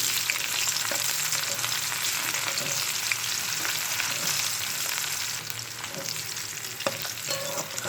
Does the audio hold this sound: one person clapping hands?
no